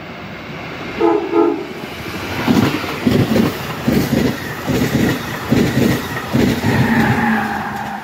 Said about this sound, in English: All right, guys, here comes the train.